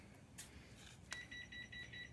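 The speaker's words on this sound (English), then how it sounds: "that's the sound of the oven getting ready," An oven beeps faintly as it reaches its set temperature, a short series of thin electronic beeps over quiet room background.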